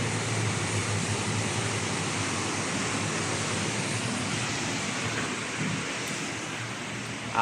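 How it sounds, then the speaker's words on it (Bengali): Heavy rain pours steadily in Malaysia, a dense, even wash of falling water that stays loud and unbroken from start to finish, with no voices over it. "বৃষ্টি এখনো হইতাছে।"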